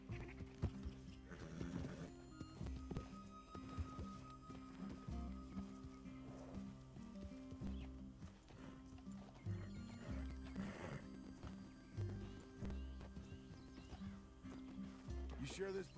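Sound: horses walking in the video game Red Dead Redemption 2

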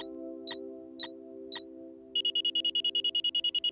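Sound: alarm of a break-reminder invention in a cartoon

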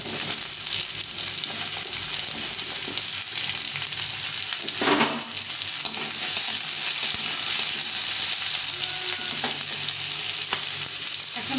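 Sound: potatoes frying in a pan

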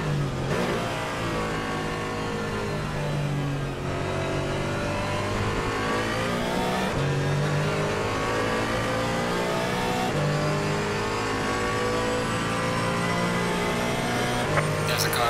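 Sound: race cars approaching at Nurburgring in ACC racing video game

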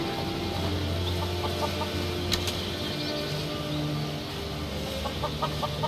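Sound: chickens clucking in Skyrim video game

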